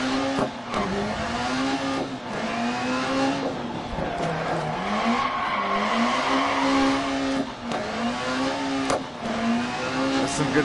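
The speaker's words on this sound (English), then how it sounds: "This car's so loud." A rally car in the DiRT Rally video game, played in PSVR, revs hard and continuously, its engine pitch climbing and dropping through gear shifts, with tire skids mixed in throughout.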